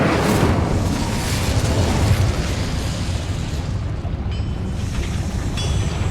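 The Incendio fire spell cast in a Hogwarts video game: a loud, steady, roaring rush of flame that holds for several seconds with little change, heard alone without speech.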